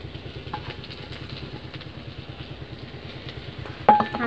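Onion and garlic fry in oil in a wok, a soft, steady sizzle heard close but faint, with a brief metallic clink near the end and no voices.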